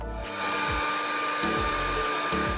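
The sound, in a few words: hair dryer blowing on a cat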